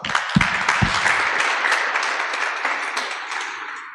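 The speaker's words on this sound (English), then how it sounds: "So please join me in giving all the volunteers of this community a round of applause." Loud, dense applause from an audience at a village town hall meeting, honoring community volunteers. It opens with a couple of low thumps and the clapping stays full and steady for several seconds.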